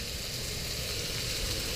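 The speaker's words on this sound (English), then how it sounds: "Frying up a little pork." Pork sizzles in a hot pan, a steady bright crackle and hiss that holds at an even level, up close and with no talk over it.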